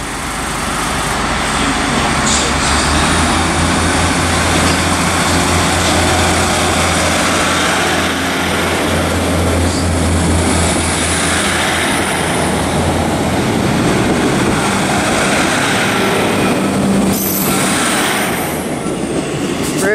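A Northern class 156 diesel train departs Manchester Piccadilly, a loud, steady engine roar that fills the station with a deep rumble and a faint high whine, continuous and close throughout.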